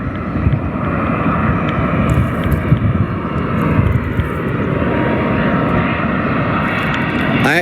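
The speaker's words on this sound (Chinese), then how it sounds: "这是 A330的200系列吗？330的200系列，从成都双流机场飞往过来的，这是客机，不是货机啊。" An Airbus A330-200 passenger jet at Guangzhou Baiyun airport gives a loud, steady engine roar that holds strong throughout, with some wind buffeting on the microphone.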